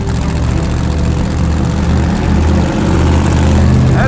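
The engine of the Vette Kart, a kart built around a Corvette engine, holds a loud, steady rev near 1,800 RPM, a continuous low rumble with a droning hum, close up and without pause.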